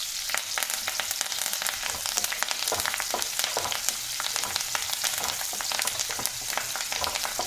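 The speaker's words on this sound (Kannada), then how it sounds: "ಕರಿಬೇವು ಹಾಕಿಬಿಟ್ಟು ಚೆನ್ನಾಗಿ ಇದನ್ನು ನಾವು ಫ್ರೈ ಮಾಡ್ಕೊಳ್ಳೋಣ" Onion and curry leaves fry in hot tempering oil, a steady dense crackling sizzle with constant fine pops, close and even throughout and no voices.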